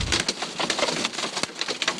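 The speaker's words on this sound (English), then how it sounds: "This is hail and a huge downpour near Flagstaff on Highway 89A." Hail and a heavy downpour on Highway 89A near Flagstaff: dense, continuous hiss of rain with rapid irregular hard taps and clatters throughout, loud and close, no voices.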